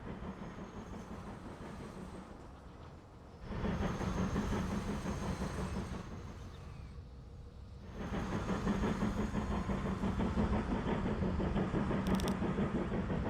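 Trains roll along the tracks in the video game Transport Fever 2, a continuous rumbling clatter of wagons that drops briefly and then swells again, steady and moderately loud with no voices.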